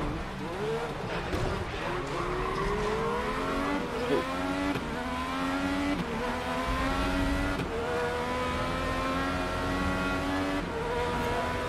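Race car engines in Grid Legends VR, a virtual reality racing game, rev and shift steadily throughout, rising and falling in pitch with gear changes, while a voice talks over the engine noise.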